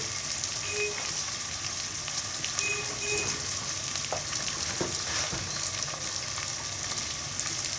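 Spices sizzle and fry in a pan for a chicken and turnip curry, a steady crackling hiss with scattered pops and faint stirring clinks, fairly quiet and close.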